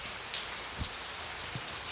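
Steady rain falls at night, an even, moderately faint hiss of drops on surfaces, with a couple of soft low thumps and no speech.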